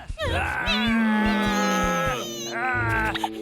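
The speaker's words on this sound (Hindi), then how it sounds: "और वो रही बिल्ली" A cartoon cat in a Hindi-dubbed Boonie Bears episode gives a long, wavering, whining cry that rises and falls, followed by a shorter second yowl, loud and close.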